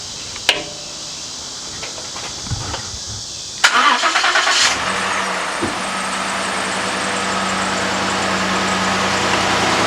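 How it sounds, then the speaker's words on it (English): A car engine cranks briefly and catches, then settles into a steady, close idle that runs on to the end after a few quiet clicks and knocks. "I'm going to start the vehicle up, and I am going to turn the steering wheel"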